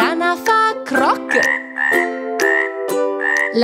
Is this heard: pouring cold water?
no